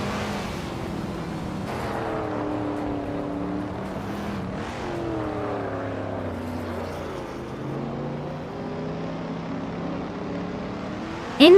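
A 1968 Alfa Romeo T33-2 Longtail racing in a video game, its engine screaming loud and close as the pitch climbs and drops through gear changes, joined by other race cars.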